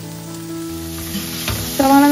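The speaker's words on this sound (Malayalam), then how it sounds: "എന്നിട്ട് ഇതിലേക്ക് നമുക്ക് അരിഞ്ഞു വെച്ചിരിക്കുന്ന സവാള ചേർത്ത് കൊടുക്കാം." Chopped onions sauté in hot coconut oil in a pressure cooker for a Kerala-style mutton curry, giving a steady close sizzle and crackle throughout, with a louder hiss and stirring as more goes into the pan near the end.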